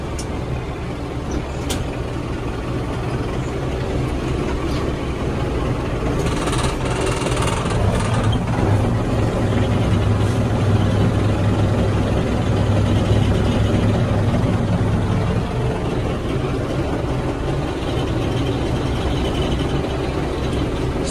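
A cold Lovol 754 tractor engine idles and runs during winter ploughing, a loud continuous low diesel rumble with rattling vibration that swells slightly midway and stays steady throughout, close by.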